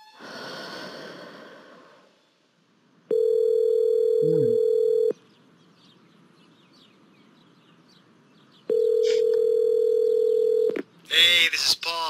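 A telephone rings in a horror film, two long steady electronic tones separated by a pause, loud and close, with breathing heard before and a voice starting after.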